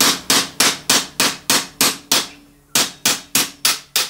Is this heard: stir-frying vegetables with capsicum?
no